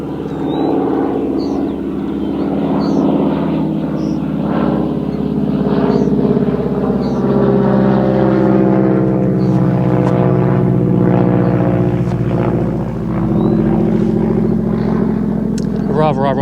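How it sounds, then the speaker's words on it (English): Propeller aircraft passing overhead near an old wartime airfield, a steady loud engine drone holding throughout and swelling slightly, with no talk over it. "I've just heard an aircraft going above."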